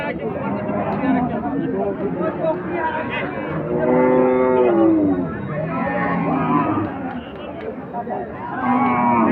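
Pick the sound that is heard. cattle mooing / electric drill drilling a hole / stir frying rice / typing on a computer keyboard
cattle mooing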